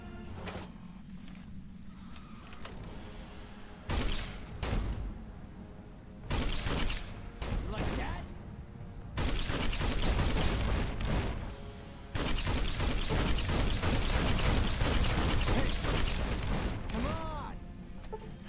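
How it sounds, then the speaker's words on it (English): A grenade machine gun fires in Fallout: New Vegas, loud repeated bursts of explosive blasts in several clusters, growing denser and more sustained toward the end. "Grenade machine gun."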